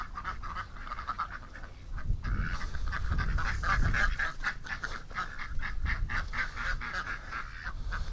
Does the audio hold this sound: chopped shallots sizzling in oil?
no